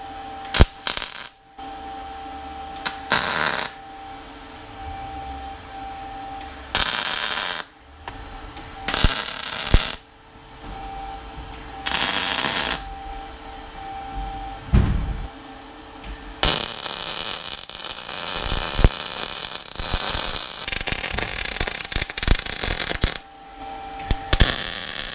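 A MIG welder set near 260 wire speed and 19.5 volts tacks a part onto a high lift jack, giving repeated close bursts of crackling buzz with pauses between tacks and one longer sizzling run near the end.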